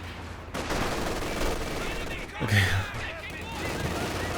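Grenadier squads in Company of Heroes 2 fire light machine guns in a steady, continuous rattle. The battle noise carries under someone commentator, who briefly speaks over it.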